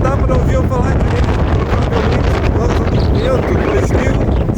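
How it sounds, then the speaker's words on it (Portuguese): Strong mountain wind at about 2,750 metres near Puente del Inca by Aconcagua, roaring into the microphone as a loud, constant rumbling buffet that almost drowns out a voice speaking underneath. "O vento no local é muito intenso e mal dava para ouvir o que eu estava falando."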